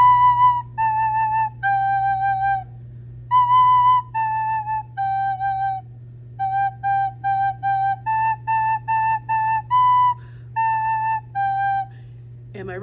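A recorder plays the white belt tune from a beginner's karate-belt method book, a series of clear, steady single notes in short phrases with small gaps between them, close and fairly loud over a low background hum.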